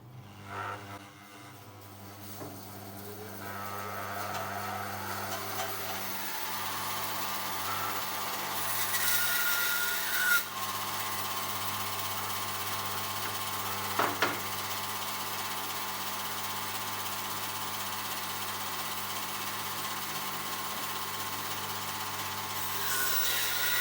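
A bandsaw fitted with a Festool track and crosscut fence runs with a steady mechanical hum while crosscutting a mitre in wood, the drone continuous throughout with a few brief knocks.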